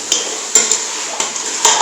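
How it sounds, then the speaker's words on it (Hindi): A curry of arbi and eggplant stirred in a cooking pan, with a few sharp scraping and clanking hits of the spoon against the metal at irregular intervals over a steady sizzle, close and fairly loud. "इसको अच्छे से हिला देंगे।"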